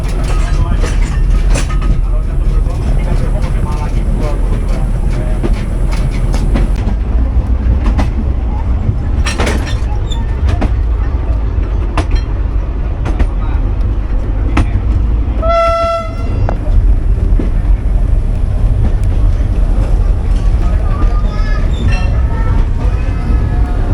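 A train running on rails arrives at Tuntang station in Indonesia, built in 1871: steady loud rumble and clatter of wagons throughout, with a sharp horn blast partway, close by.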